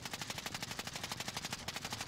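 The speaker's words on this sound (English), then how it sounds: "Oh, I'm getting shot at" Rapid automatic gunfire in the game Call of Duty Warzone patters in an even, fast rhythm, steady and fairly faint throughout the short burst, with no voices.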